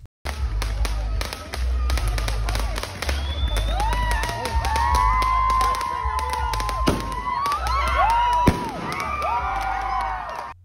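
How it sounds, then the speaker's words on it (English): Rapid crackling fireworks burst and pop continuously, with whistling rockets and loud bangs over a cheering, shouting crowd. "They also had some fireworks."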